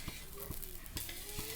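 A dosa made without urad dal sizzles softly and steadily on an oiled griddle, with a few light scraping taps. No one speaks.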